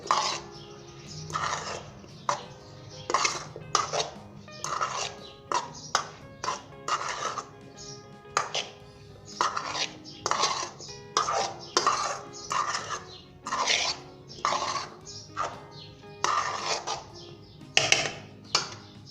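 Boiled potatoes being gently mixed into a chickpea chaat salad in a bowl, with a utensil scraping and clinking in a run of short, irregular strokes and brief pauses between them.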